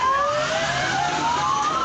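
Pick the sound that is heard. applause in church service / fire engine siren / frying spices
fire engine siren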